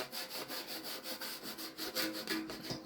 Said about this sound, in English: Just put it on with a sponge applicator.